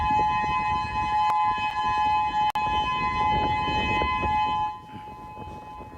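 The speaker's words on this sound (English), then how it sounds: "We have some video of the moment the sirens came down on Maui earlier this afternoon." Tsunami warning civil defense siren on Maui, a loud sustained steady tone with harmonics holding for several seconds before dropping off near the end.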